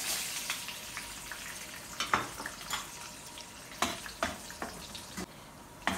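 Raisins tossed into hot oil for biryani, the same oil just used for toasting almonds, crackle and sizzle steadily, with sharper popping bursts scattered through the quiet kitchen backdrop.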